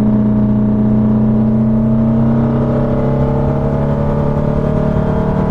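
A 1974 VW Super Beetle with a 1915cc engine holds a loud, steady drone close by. Its pitch rises very slowly, like a sustained rev on the move, with no talking over it.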